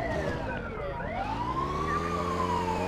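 A wailing ambulance siren in GTA II sweeps slowly up and down in pitch, loud and continuous over a rumbling engine, with no talking.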